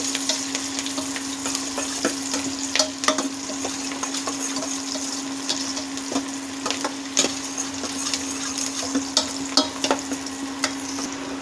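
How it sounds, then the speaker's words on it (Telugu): Dry red and green chillies fry in hot oil in a pan with a steady, close sizzle, broken by frequent sharp crackles and pops and a few scraping stirs. "కొంచెం కలర్ మారే వరకు ఫ్రై చేసుకోవాలి."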